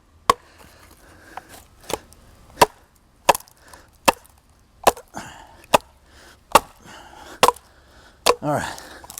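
Schrade SCHF43 hatchet chopping wood outdoors, about eleven sharp, close woody thwacks spaced roughly a second apart, with quiet handling sounds between strikes and a brief scrape at the end.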